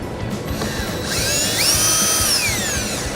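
Ratchet driving an 8mm socket to remove screws on a 2015 Ford Escape, a close, brief burst of fast clicking with a rising whirring edge, heard alone.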